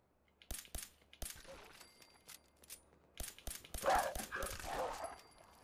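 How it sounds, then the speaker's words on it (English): Dogs in the Fallout 4 video game give short, sharp barks and yips with clicks and metallic clatter between them, rising into a denser burst of yelping near the end. "We're gonna have a few dogs in front of us."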